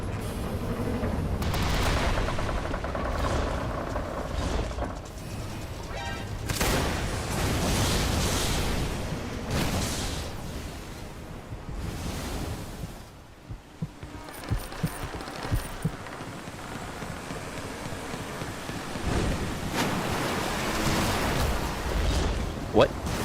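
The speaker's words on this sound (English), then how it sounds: "Explosive iron mortar" Explosive iron mortar spell blasts in the Arcane Odyssey video game, a dense rumbling barrage of booming impacts that runs nearly continuously, with a player talking over it.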